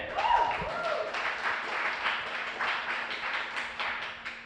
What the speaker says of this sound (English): I want you guys to actually clap for yourselves